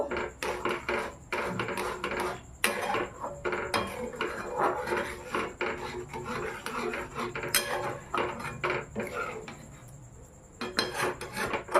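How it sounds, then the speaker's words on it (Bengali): Chhena being stirred in a metal pot for chhanar payesh, rapid repeated scraping and clinking of a spoon against the pot, close and fairly loud, in an irregular rhythm throughout. "এরপর দিয়ে দেব ছানাগুলি এর মধ্যে, একটু নেড়ে চেড়ে নেব।"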